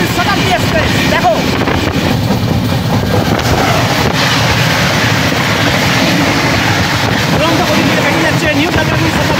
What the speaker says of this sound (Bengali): এবার সামনের দিক থেকে ট্রেন আসছে হাওড়া নিউ জলপাইগুড়ি শতাব্দী এক্সপ্রেস,